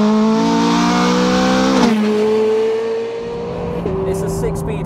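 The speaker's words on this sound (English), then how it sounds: "And you'll see those upshifts, just bang, bang." Ferrari 430 Scuderia V8 roars under hard acceleration, with abrupt pitch drops marking quick upshifts of its 6-speed single-clutch automated manual, loud and close inside the cabin.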